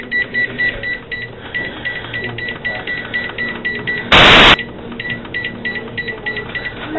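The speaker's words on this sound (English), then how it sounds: "And then I'm going to set my timer" A kitchen timer being set while a pot of carrots boils on the stove, with a series of short, evenly repeated electronic beeps and one brief louder burst, close by over a steady kitchen background.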